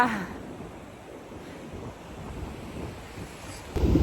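Waves washing onto a beach, a steady soft surf roar with wind buffeting the microphone throughout, and a louder gust or splash near the end.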